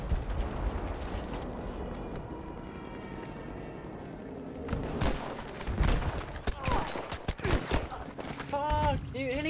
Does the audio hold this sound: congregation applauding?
no